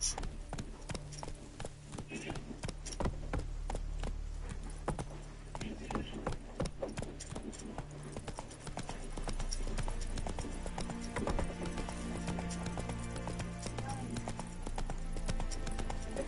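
A horse gallops in the video game The Witcher 3, its hooves beating a rapid, continuous clip-clop up close, with a voice speaking over parts of the run.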